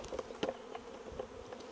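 Honey bees buzzing around hive boxes during a hive merge, a faint, close, wavering drone with a few louder passes of individual insects over a short stretch.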